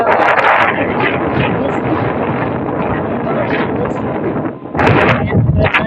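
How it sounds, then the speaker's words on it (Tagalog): Strong outdoor wind buffets the microphone in a loud, continuous roar with gusty swells, briefly dipping before surging back up. "Sobrang talagang hangin."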